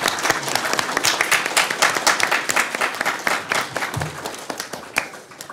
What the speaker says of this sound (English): That may have gotten drowned out by applause